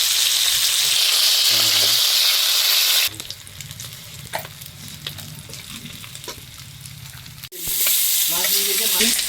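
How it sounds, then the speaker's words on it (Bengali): Onion frying with ginger and cumin paste for a Bengali katla fish muri ghonto, a close, loud sizzle with stirring that cuts out midway to a quieter stretch of clinks and handling, then returns. "পেঁয়াজটা ভালো করে একদম ভাজবে"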